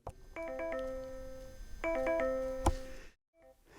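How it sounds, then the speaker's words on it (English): A yes ringer sound effect fires from a pad button on a TASCAM MiNiSTUDIO audio interface, a clear chime-like tone pattern played twice in quick succession, ending in a brief click. "I have what we call the yes ringer."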